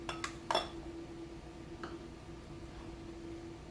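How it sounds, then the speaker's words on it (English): A knife taps and scrapes against a plate while cutting roast chicken, a few sharp clinks close together at the start, then one more later, over a faint steady hum. "And then cut it with a knife."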